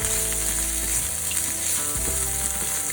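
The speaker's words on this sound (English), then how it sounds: "saute and cook them until slightly brown." Rehydrated mushrooms sautéing in a pan, a loud steady sizzle and crackle of frying close up, with faint scraping of stirring underneath and no talking.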